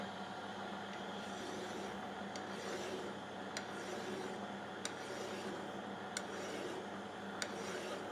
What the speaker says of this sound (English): So we'll just run the file over that.